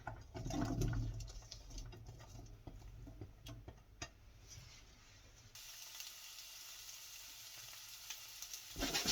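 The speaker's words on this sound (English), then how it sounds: "Once your oil is hot, add red pepper and the green pepper and white onion." Red pepper, green pepper and white onion frying in hot oil for Turkish menemen, a steady close sizzle with scattered ticks and crackles, quieter in the middle and picking up again at the end.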